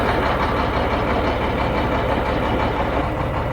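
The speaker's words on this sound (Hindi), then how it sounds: "इसके डिफरेंशियल में आवाज़ है" The differential of a Shacman diesel truck is checked with a wheel spun fast, producing a loud, unbroken mechanical drone with a dense low-pitched rumble that holds steady throughout, with no talking.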